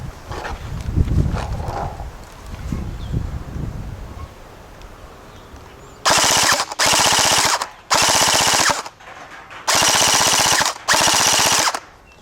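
A CP AK74M gel blaster fires in five sustained automatic bursts, each about a second long with short gaps between them. The bursts are loud and close, and a quieter stretch of handling noise comes before them.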